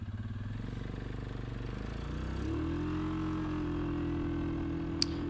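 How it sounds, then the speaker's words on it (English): A Suzuki King Quad ATV engine drones steadily while riding down a road, a continuous close throbbing hum that rises slightly in pitch midway, then holds even. "how nice and effortlessly this bike runs down the road at that speed"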